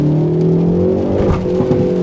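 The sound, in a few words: 2019 Hyundai Veloster N engine accelerating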